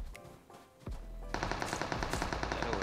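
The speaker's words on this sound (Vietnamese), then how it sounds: "Vậy là chỗ này hai team đang bắn nhau rồi." Gunfire between teams in PUBG Mobile on the Vikendi map: a single sharp shot, then a rapid, loud burst of automatic fire that continues steadily to the end.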